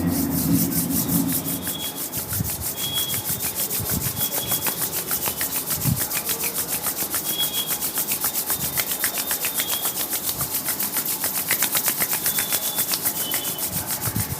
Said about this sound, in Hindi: दोनों हाथों को रब कर लीजिए।